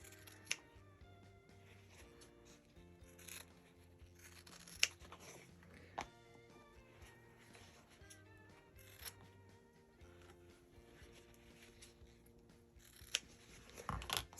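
Scissors trim loose quilt fabric ends for a pumpkin quilt block, giving quiet, close snips and soft fabric rustles, with a few sharper clicks scattered through a low background of music.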